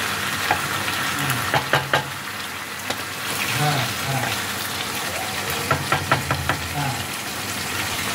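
Marinated chicken with its leftover spice marinade fries in a pan under a moderate sizzle while a spoon mixes it, producing clusters of clinking scrapes; faint low murmuring sits in the background.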